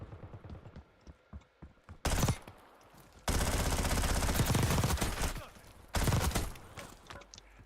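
A PPSh submachine gun fires in Call of Duty: Warzone in three loud, sustained bursts: a short one, a long roughly two-second stream, then another short burst, with a voice speaking between them.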